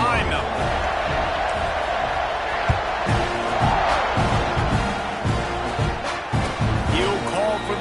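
Stadium crowd in an NCAA football video game, a steady roar of the crowd with scattered thumps and cheers running beneath a commentator's continuous play-by-play.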